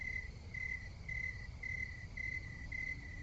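Recorded cricket sounds chirp in a steady, evenly spaced pulse over a low background hum, faint and continuous.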